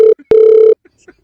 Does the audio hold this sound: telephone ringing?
yes